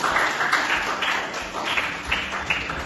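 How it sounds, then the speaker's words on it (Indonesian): A school class gives a short burst of clapping for group 2 during a lesson, the claps dense and close, ringing briefly in a classroom. "beri tepuk tangan untuk kelompok 2"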